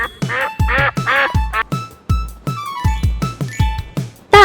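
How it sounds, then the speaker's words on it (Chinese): A duck quacks loudly and repeatedly, about a dozen sharp nasal calls in quick, uneven succession, with no voices. "鸭子"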